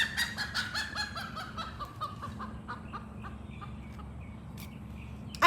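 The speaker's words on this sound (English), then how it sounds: "I have chickens." Several chickens cluck and squawk close by, with a rooster crowing early on, over a low steady background hum.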